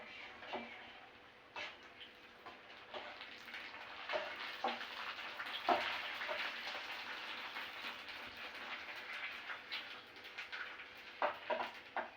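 Fuchka puris crackle and spit in hot oil with a dense, rain-like patter of tiny pops, steady and fairly quiet throughout with no talking.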